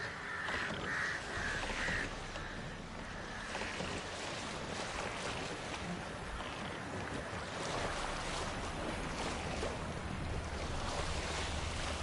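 A boat sailing on ocean waves in the video game The Witcher, a steady loud wash of surf and water rushing against the hull with wind, continuous throughout and free of talk.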